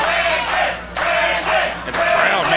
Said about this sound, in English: This crowd is excited.